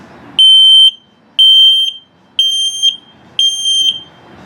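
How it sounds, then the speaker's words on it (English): Low-battery alarm on the LP gas and carbon monoxide detector in a 2022 Jayco Greyhawk 30Z RV: four loud, shrill electronic beeps, each about half a second long, evenly spaced about a second apart, close to the microphone with no talking. "And then of course the low battery alarm."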